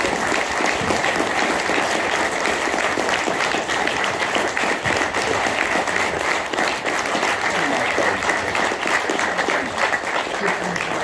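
A large audience at a Red Dwarf talk at Wales Comic Con gives sustained, dense applause that stays steady and loud for about eleven seconds, with crowd noise mixed in.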